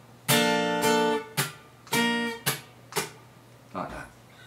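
Guitar strums ring out in a short rhythmic pattern from the intro of a song, sustained chords alternating with quick percussive muted scratches, close and fairly loud.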